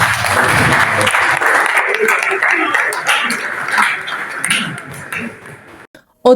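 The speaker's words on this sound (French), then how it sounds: "Je vous invite de l'applaudir." Hearty applause from a diocesan clergy gathering fills the room, loud and continuous before tapering off near the end and cutting to a brief silence.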